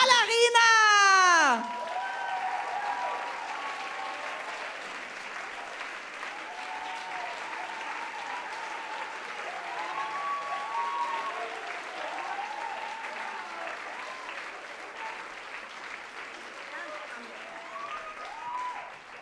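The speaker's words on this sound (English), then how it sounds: "And I want you to give a big applause for Malarina!" An audience at a comedy show applauds for a performer, with sustained clapping and scattered cheers that run on for many seconds after a brief burst of voice at the start.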